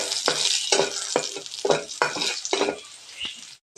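Garlic fries in margarine in a pan for Filipino garlic fried rice, with a constant sizzle punctuated by about seven rhythmic scraping stirs before it suddenly cuts off.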